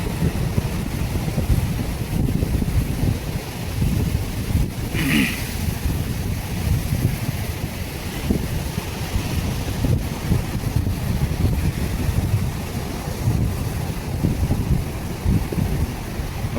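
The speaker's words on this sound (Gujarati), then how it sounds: "આ બધી મોજા ઉછળે છે તેમાંથી આપણો આપણી બોટો ફિશિંગમાં રવાના થાય છે" Rough sea waves surge and wash continuously as fishing boats set out, with heavy wind buffeting the microphone and a constant low roar and no clear voices.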